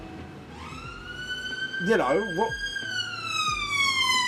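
A steady, wailing siren rises and then holds, with a voice speaking briefly over it midway. The tone carries on clearly to the end.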